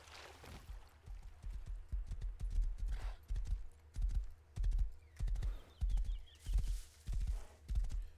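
Horse hooves clip-clop in the Rust video game, a steady walking rhythm of paired thuds building from faint to clear and close, with a brief whinny near the start.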